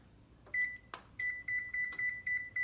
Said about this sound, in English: now that the oven has beeped, we're going to take out the cookies